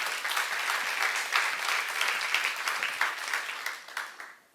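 Audience applause at a church training retreat for small-group leaders, a steady dense wash of many hands clapping that holds for several seconds before tapering off at the end.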